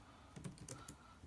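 A computer keyboard being tapped in a short burst of a few keystrokes while a word is typed into a text box, close and quiet, with no talking.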